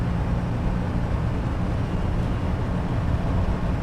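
A manual Mercedes W123 200d diesel saloon drives at speed, with a steady broadband roar of engine, tyres and wind close inside the cabin and no pauses throughout.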